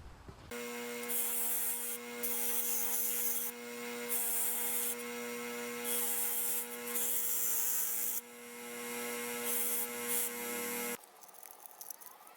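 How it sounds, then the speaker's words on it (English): A wire brush scrubs rust off the top of a John Deere 110 throttle lever in repeated rasping strokes, loud and close, over a steady engine-like drone that cuts out near the end. "This throttle lever is rusty on top. I'll clean that with the wire brush."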